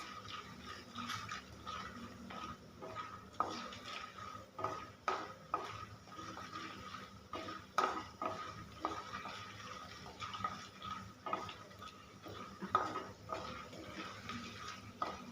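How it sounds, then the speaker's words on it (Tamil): Peanuts and chana dal dry-roasting in a pan, with repeated light clinks and scraping stirs of a spoon against the metal over a faint background hiss, fairly quiet and irregular. "இப்போ நம்ம எடுத்து வச்சுருக்க கடலை பருப்பை போட்டுக்கலாம் நிலக்கடலையை லைட்டாக ஒரு வறு வறுத்துக்கலாம்"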